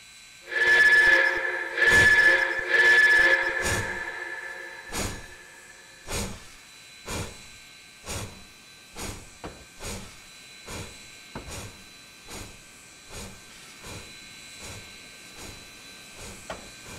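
A video game steam locomotive whistle sounds in three long blasts, then a helper engine chuffs in slow, regular puffs that gradually weaken, over a steady background hiss, in Trainz TRS2019.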